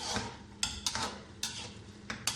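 A spoon stirs meat frying in a pot for Punjabi achar gosht, giving soft scraping with a handful of sharp metallic clinks against the pot over a faint sizzle.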